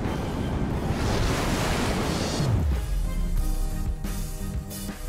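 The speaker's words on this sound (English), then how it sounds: "Almost sounds like a waterfall." Steady rushing water noise, like a waterfall in the Minecraft: Story Mode video game, fills the whole stretch loudly and evenly, with a low rumble sliding downward midway.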